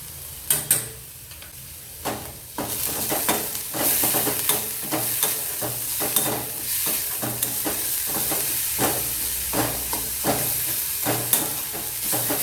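Ginger, chili and garlic stirred in a hot oiled pan for batata vada filling, a continuous sizzle with repeated scraping spoon strokes close up.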